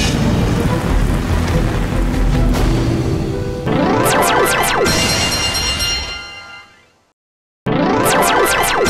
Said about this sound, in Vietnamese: Mưa không biết lạnh gì luôn á. Di chuyển là ướt á.